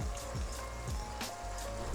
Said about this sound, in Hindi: साथ साथ मैं पानी का छींटा देती जा रही हूँ ताकि ये मसाला हमारा जले नहीं